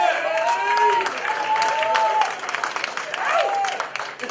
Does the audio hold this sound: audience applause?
yes